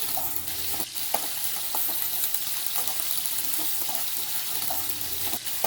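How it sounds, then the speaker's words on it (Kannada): Okra (bendekayi) fries in a pan with a steady, close hiss and crackle, broken by a few sharp clinks of stirring. "ನೋಡಿ, ಫ್ರೈ ಆಗ್ತಿದೆ, ಕಲರ್ ಚೇಂಜ್ ಆಗ್ತಿದೆ"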